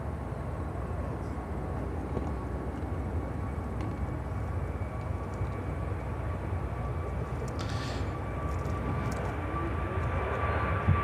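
A JetBlue airliner passes at Chicago O'Hare airport, a steady, broad engine roar that holds evenly throughout at moderate distance, with no talk.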